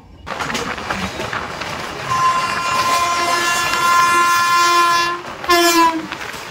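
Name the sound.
Tamralipta Express train passing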